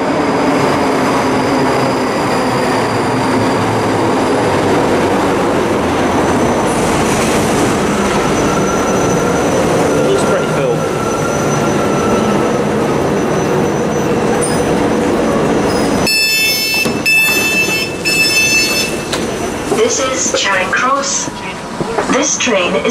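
Steady loud rumble and rolling wheel noise of a train running on the line to Helensburgh Central, heard from on board, with a shift in tone partway through as the ride continues.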